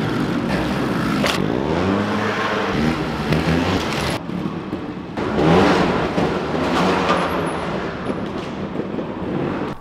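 A trial motorcycle ridden at an outdoor spot for wheelie practice drones loudly and continuously up close, its engine revving up and easing off in repeated swells.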